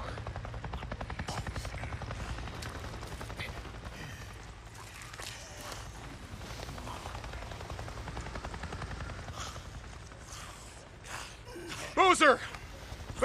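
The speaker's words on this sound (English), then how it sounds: "I just saw a goddamn chopper." A helicopter in the video game Days Gone thrums steadily through the scene as a low, continuous rotor drone, mixed with game ambience and a brief louder burst near the end.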